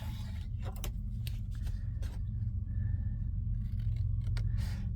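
Scissors snip paper for a summer journal in a series of quiet, crisp cuts and rustles over a low steady background hum.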